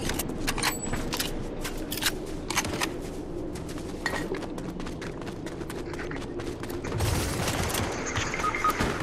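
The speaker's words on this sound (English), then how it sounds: "They shooting at him." Gunfire in Fortnite: rapid bursts and single shots crack repeatedly, some sharp and close, others more distant, with a heavier cluster of blasts near the end.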